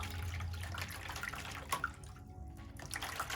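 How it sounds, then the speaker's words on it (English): Tap water runs steadily into a sink as a bar of soap is rinsed under it, with light splashing and a few brief drips, close and continuous. "And now I'm going to rinse it."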